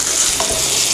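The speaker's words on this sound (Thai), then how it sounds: "เสร็จแล้วก็หอมแดงนะครับผัดให้หอมเลย" Shallots stir-fry in a hot pan for pad thai, a loud continuous sizzle with a brief scrape of stirring.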